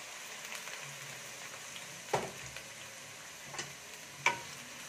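Sliced onions fry in a pan with a faint, steady sizzle, broken by a few soft clicks and taps from stirring.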